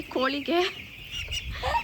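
Chicken chicks on a poultry farm giving short, high peeping calls, a few close chirps in quick succession over faint background noise.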